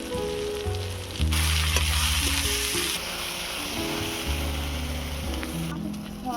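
Egg do peyaza masala fries with a strong, close sizzle that swells while it is stirred. Background music plays underneath, and there is no talk.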